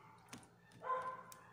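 A single faint dog bark sounds in the distance against a quiet background.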